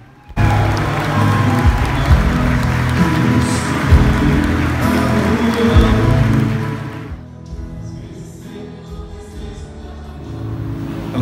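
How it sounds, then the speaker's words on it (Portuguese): A church congregation claps at length for a newly ordained priest during the ordination ceremony, a loud, dense, rain-like wash of applause that drops off toward the end to a quieter murmur. "desfilou por toda a igreja e foi aplaudido e recebido com bastante carinho"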